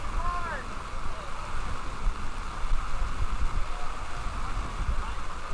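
Rain pours steadily over an outdoor quidditch pitch during a World Cup bracket game, a constant broadband hiss mixed with wind buffeting the microphone, a distant whistle-like tone briefly audible early on.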